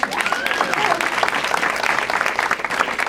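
A church congregation claps during a Sunday Easter service, steady dense applause lasting throughout, fairly loud and close, with a voice speaking over it.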